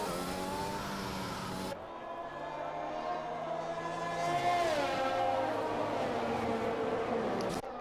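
Race cars lapping behind a safety car on a circuit in Melbourne, engines humming and droning at moderate distance, with a rising rev and a passing car partway through and faint background noise.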